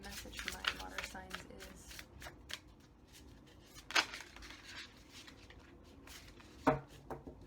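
Oracle cards being shuffled by hand: a run of crisp, papery riffles and flutters, with a few sharper slaps of the deck, close and fairly quiet, while a soft voice murmurs beneath.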